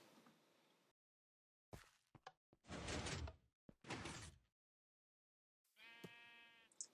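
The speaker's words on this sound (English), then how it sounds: "Now you can open the door from the inside." Wooden door in Minecraft swinging open, a few short distinct clunks and creaks separated by silence, followed by a brief tonal bleat-like sound near the end; no talking.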